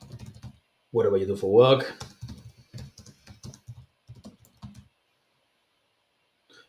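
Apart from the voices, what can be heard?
typing on a computer keyboard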